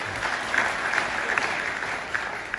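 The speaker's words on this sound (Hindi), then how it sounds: "मैं चाहूंगी इनके लिए जोरदार ताली।" A crowd at a Safe Shop business event claps loudly and steadily, a dense wash of applause filling the whole moment with no talking.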